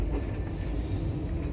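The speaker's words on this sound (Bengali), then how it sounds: "আমাদের টয় ট্রেন ছেড়ে দিয়েছে। কালকা স্টেশন থেকে আমরা রওনা দিয়েছি।" A toy train pulls out of Kalka station, a steady loud rumble of rolling carriages with low rattling that holds throughout, with no voices.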